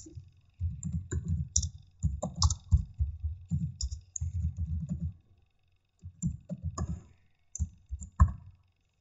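Code being typed on a computer keyboard comes through as close, crisp bursts of rapid key clicks separated by short pauses, with no speech.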